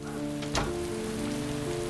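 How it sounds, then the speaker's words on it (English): Rain falls steadily on a surface for the whole stretch, a continuous close patter with a brief louder splash partway through and faint tonal background hum beneath. "Sunny but raining."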